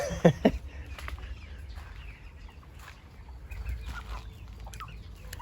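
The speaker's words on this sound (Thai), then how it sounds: "ส่วนตัวนี้ก็จะเป็นไก่ตีนโตนะครับ" A big-footed chicken on a farm gives a few loud clucks near the start, followed by softer scattered calls over low rumbling background noise.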